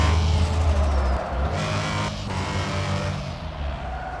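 A car drives past with a loud engine drone that shifts in pitch as it moves, the sound settling into a steadier rumble.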